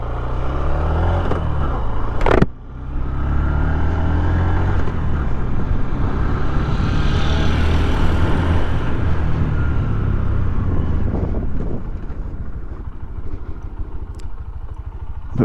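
A Honda CB125F Shine 125 motorcycle's 125cc engine idles and runs steadily and quite quietly at close range, with a brief sharp knock early on, and no talk over it.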